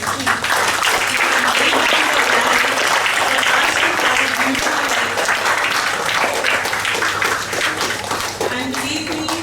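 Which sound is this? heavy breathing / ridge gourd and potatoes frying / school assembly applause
school assembly applause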